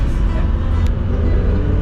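A classic 1956 car being driven on the road near Guardalavaca, Cuba, makes a steady, loud engine and road rumble from inside the vehicle, continuous throughout with no talk.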